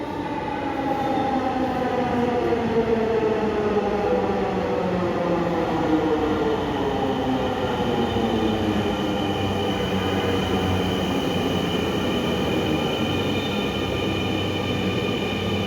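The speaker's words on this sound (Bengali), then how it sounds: "এই ফার্স্ট ট্রেন আসতেছে 7:22-এ।" The first metro train arriving at a station, with a loud steady rumble and long gliding whines that fall in pitch as it brakes, continuous throughout with no talk.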